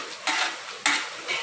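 Potatoes frying in a pan are stirred in two or three scraping sweeps over a soft background sizzle, heard close with no speech.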